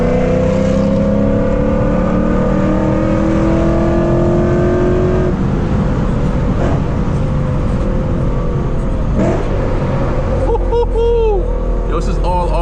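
Catless V8 Lexus RC F, a tuned car with automatic shifts, driving on the road, its engine revving and slowing loud and close from inside the cabin, with a person talking over it.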